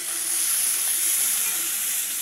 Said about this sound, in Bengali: আলুটা ভাজতেছে মা